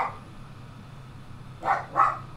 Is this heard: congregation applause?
no